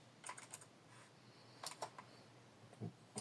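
Quiet, close clicking of keys on a Trust GXT 881 Odyss semi-mechanical gaming keyboard in short irregular clusters, with brief pauses between the bursts of typing.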